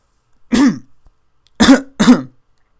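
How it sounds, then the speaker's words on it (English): A person clears their throat once, then gives two quick rough coughs close to the microphone, separated by short silences. "I have a little bit of a cough right now."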